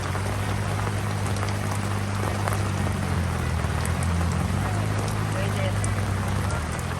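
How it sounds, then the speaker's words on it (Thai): Steady rain falls outdoors near a rice field, a dense continuous hiss of drops hitting surfaces, loud and close throughout with no pauses. "ฝนมาแล้วครับฝนตกเรียบร้อย"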